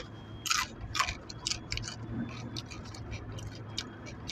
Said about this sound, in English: Excuse me for crunching.